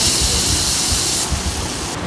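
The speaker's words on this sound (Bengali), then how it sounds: "এখন চিংড়ি মাছটা তেলের মধ্যে দিয়ে হয়েছে, ভেজে নেওয়া হচ্ছে।" Shrimp fry in hot oil with a loud, continuous sizzling hiss and crackle, heard close and steady without talk.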